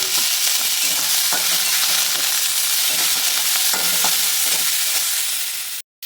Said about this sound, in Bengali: এবার আমি ঘুগনিগুলো ভেজে নেব